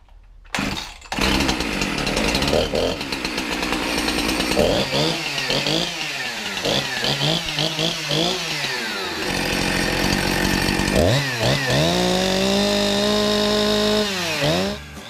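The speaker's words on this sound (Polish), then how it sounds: "Odpalę teraz pilarkę, pokażę Wam jak chodzi." A Husqvarna petrol chainsaw, about 10 years old, is pulled to life after a few tugs, then runs loudly, revving up and down between steady idling stretches.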